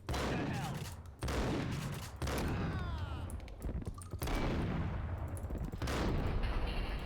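Rapid gunfire from the video game Max Payne, bursts of loud shots and booms crowding one after another with brief gaps, close and intense, with a voice faintly mixed in.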